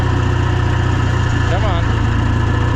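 A White 5100 planter tractor's engine idles steadily and loudly up close, a constant low throbbing drone with a faint whine rising briefly partway through.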